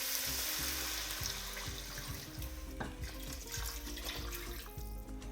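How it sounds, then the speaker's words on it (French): Water pouring into a pot of chayote pieces, a fairly quiet continuous splashing rush with irregular gurgles and knocks, close by and without voices. "On recouvre d'eau à hauteur."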